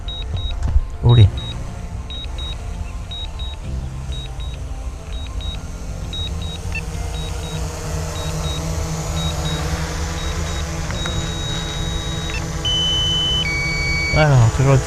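A drone controller sounds its low-battery alarm, short high beeps repeating in a steady pattern, then a longer tone and pitch changes near the end, over a continuous hum and background talk.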